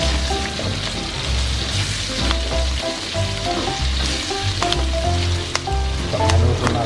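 Ginger frying in a pan sizzles steadily and loudly throughout, with occasional sharper crackles and stirring clatter close by, no voices.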